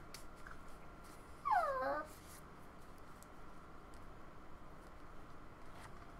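A puppy gives a short, thin whimper of a few rising and falling cries, faint against steady background hiss.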